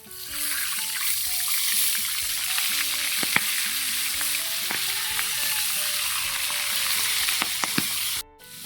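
Milkfish (bangus) frying in a pan, a steady close sizzle with scattered crackles and pops that runs throughout, then cuts off abruptly near the end.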